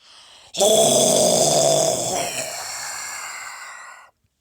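A voice imitates a monstrous roar: a sudden loud, raspy growl held for about three seconds before cutting off.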